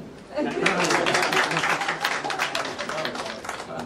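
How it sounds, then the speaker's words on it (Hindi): Audience at an awards function clapping steadily, a dense wash of many hands that swells in and holds loud throughout, with some crowd noise mixed in. "दे दो फिर तुम ताली"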